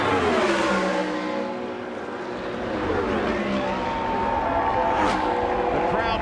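Indianapolis 500 race car engines, including Eddie Cheever's car on its final laps, howling and rising and falling in pitch as they pass, under an excited commentator's voice.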